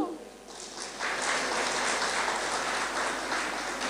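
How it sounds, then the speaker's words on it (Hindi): A hall audience claps in response to a spiritual speaker, the applause building quickly into a dense, steady roar of many hands that holds for several seconds. "ताली तो बजाओ।"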